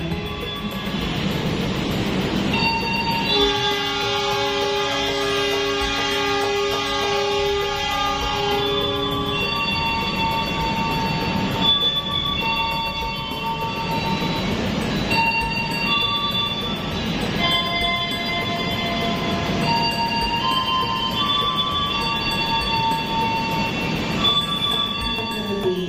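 Malabar passenger train at a station: metal wheels squeal in long, high, shifting tones over a steady rolling rumble, with no voices.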